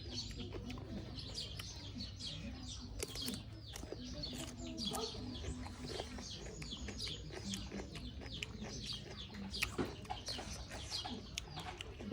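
Quiet farmyard birds: chickens clucking amid cooing and chirping, all fairly faint and mixed with steady outdoor background noise.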